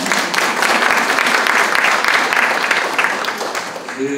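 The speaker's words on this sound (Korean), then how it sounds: "동의하시면 박수 한번 크게 주시죠" An audience at a political party's policy forum on fostering talent gives a big round of applause, a thick, continuous roar of many hands clapping that fades slightly at the end.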